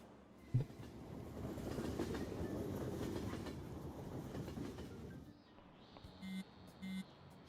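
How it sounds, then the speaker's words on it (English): A train in the video game Persona 5 Royal pulls in with a steady rolling rumble and clatter of wheels on rails, then slows and stops, followed by a short two-tone chime as it settles. "Oh, the train is here."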